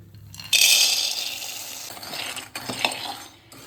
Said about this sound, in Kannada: ಇದಕ್ಕೆ ಕಡಲೆನ ಈಗ ಹುರಿಯುವ ನಾವು